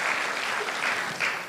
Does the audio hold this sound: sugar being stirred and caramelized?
no